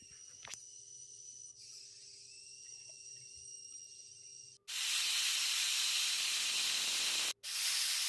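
A steady high whistle gives way to a loud, forceful hiss of escaping steam from a pressure cooker cooking egg and chicken sambar, running several seconds, briefly breaking, then resuming.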